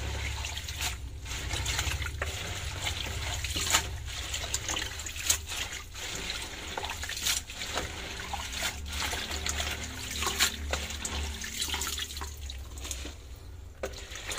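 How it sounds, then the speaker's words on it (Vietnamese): Malabar spinach is gently washed by hand in water, with splashing, trickling and dripping that come in uneven bursts, close and moderately loud, and no talking. "Mình rửa nhẹ nhẹ để mồng tơi nó không có bị mềm nữa các bạn ha"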